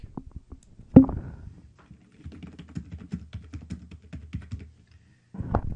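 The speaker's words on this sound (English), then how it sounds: "And again, you can type in, here is my link." Typing on a computer keyboard: a quick run of close, light key clicks with a louder tap early on and brief pauses between bursts, ending in a short final flurry.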